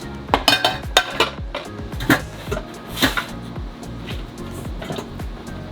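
A stainless steel cooking pot clanks and scrapes as it is stowed in a small RV kitchen cabinet, giving a series of sharp metallic knocks and rattles with a few bigger clangs.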